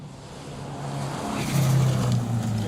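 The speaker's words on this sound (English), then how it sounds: "Ooh, turbo noises. Right now, though." A 2000 Subaru Impreza rally car drives past on a forest stage, its engine note rising and growling loudly with a brief surge as it goes by, with turbo whooshing.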